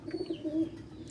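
Soft, low pigeon cooing repeats in a steady murmur, close by, with faint bird chirps above and no talking.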